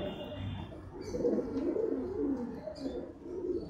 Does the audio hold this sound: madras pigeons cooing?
yes